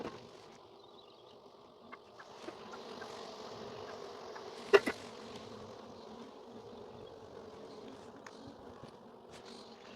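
Dense, steady buzzing of many honey bees swarms around open hive frames during an inspection, close and continuous, with a few brief clicks and knocks of handling.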